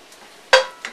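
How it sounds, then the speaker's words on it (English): A utensil stirs spinach into meat cooking in a pan, two brief scraping clinks against the pan over a faint background sizzle, close and with no talk. "I want to mix it so that the spinach gets really within the context of the meat that's cooking"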